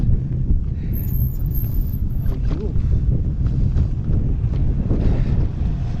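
Cold wind at around 13,000 feet buffets the microphone in a continuous rough rumble throughout, with a person talking under it.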